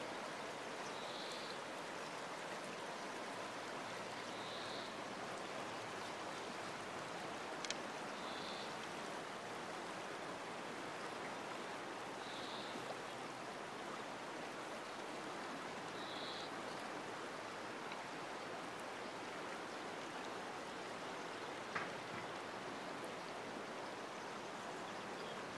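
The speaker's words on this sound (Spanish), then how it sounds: "Cómo suena el agua por la mañana." The Órbigo river flows under a bridge in the morning, a continuous, even rush of water that holds steady throughout, with faint high chirps at intervals above it.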